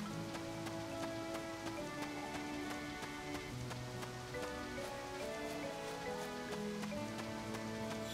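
Steady rain falls continuously in the Wii farming game Harvest Moon, a dense patter running alongside a looping melodic game soundtrack.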